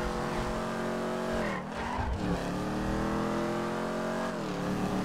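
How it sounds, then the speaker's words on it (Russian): Video-game car from GTA 5 accelerating hard from a standstill, a loud, close engine roar climbing in pitch with a brief dip and squealing tires, then revving up again, with no talk. "Видал, как с места просто рвет. Тачка мечта просто."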